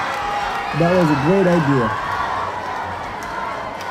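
A soundboard crowd cheer plays during a live stream, a wash of cheering and shouting voices that swells for a few seconds while someone speaks over it.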